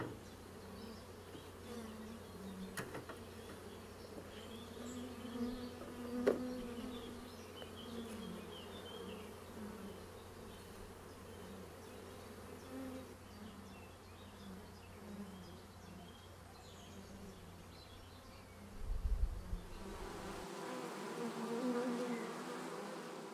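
Honeybees buzz steadily as a swarm is shaken from hive frames into a box, a faint continuous drone of many insects with occasional soft knocks.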